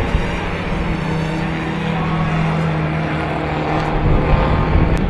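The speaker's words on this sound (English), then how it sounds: "Following David and Paul, albeit not hotly, was Richard Lake in his beautiful Fraser Nash Le Mans Mark II" A vintage Frazer Nash Le Mans Mark II racing car passes at a circuit race meeting, its engine a loud, sustained roar over steady background noise throughout.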